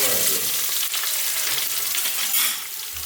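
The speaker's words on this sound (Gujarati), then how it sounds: "ત્યારબાદ નાખશું આપણે કઢી લીમડો, મરચાં, આદુ લસણની પેસ્ટ, એને થોડુંક આપણે કડવા દઈશું ધીમા તાપે." Curry leaves, green chilies and ginger-garlic paste sizzle loudly in hot oil over a low flame, a dense, continuous close-up hiss with faint stirring, and no voices.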